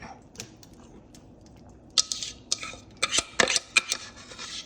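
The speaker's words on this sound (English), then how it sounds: "want to whisk the wet ingredients into the dry until they're just mixed" Wire whisk mixing wet cornbread batter ingredients into the dry ones in a bowl, with sharp clinks and scrapes of metal against the bowl in quick irregular bursts over a soft background.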